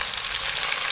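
Scallion and ginger slices fry in oil inside a clay pot, a dense, continuous bright sizzle heard up close with no voices.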